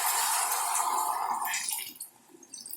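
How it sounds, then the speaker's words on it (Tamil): Water poured into chicken cooking in a pan, a bright splashing hiss for about two seconds that fades into quieter sizzling and drips. "இப்போ கொஞ்சம் தண்ணி ஊற்றி ஒரு 20 மினிட்ஸ் வேக வைக்கணும்."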